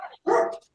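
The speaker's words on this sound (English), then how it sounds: "Sorry if you hear a dog barking," A dog at home barks during a live crafting session: one sharp, fairly close bark after a softer short yelp, all within under a second, with no talk.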